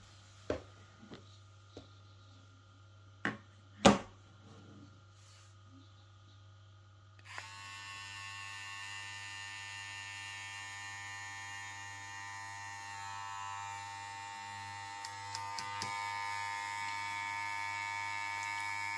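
A VGR V671 hair clipper switches on after a few sharp clicks and handling knocks, then runs as a steady, close electric buzz for the rest of the time, with a couple of faint taps near the end.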